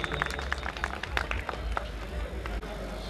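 An audience at a social organisation's first annual function in India breaks into applause, a dense patter of clapping that carries on steadily under a murmur of voices.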